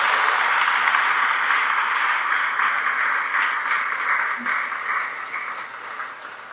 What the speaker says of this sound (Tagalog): Pasalubungan natin siya uli ng masigabong palakpak